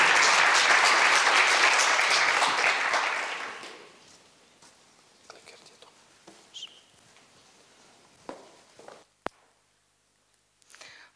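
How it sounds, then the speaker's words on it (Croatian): Audience applause at a Croatian school competition award event, a dense, loud burst of clapping that fills the first three seconds and then fades out, leaving near-silence with a few faint scattered taps and rustles. "Molim jedan aplauz, odobrenje."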